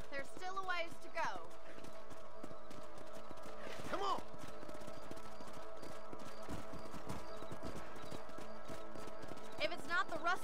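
Horse hooves clip-clop at a gallop in the Western video game Red Dead Redemption, a steady near rhythm with occasional neighs and whinnies, under game dialogue and a short shouted line.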